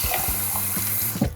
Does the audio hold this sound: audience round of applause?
no